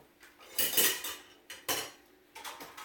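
Metal clatter of an Instant Pot lid being handled in a kitchen while making chicken stew: three clanking bursts of scraping and knocking, close and fairly loud, with no talking.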